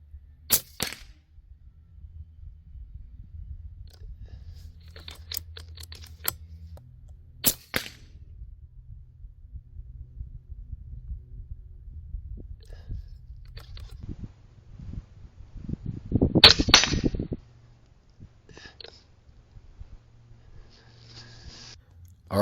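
A small gun fires exploder rounds at 50 yards, giving a few sharp, isolated cracks spaced seconds apart, set against quiet outdoor background with a brief rustling burst later.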